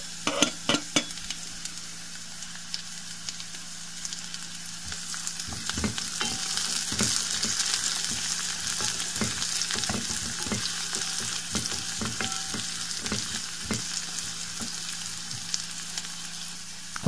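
An onion, carrot and celery mixture sizzles and fries in a pan while being stirred, with a constant bright crackle and scattered scraping clicks from the utensil; no one talks.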